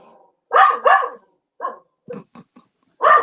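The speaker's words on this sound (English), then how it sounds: "I think that's who my dog's barking at." A dog barks several times in short, loud bursts, with a pair of quick barks, then scattered smaller yips and another sharp bark at the end, close by and without talk.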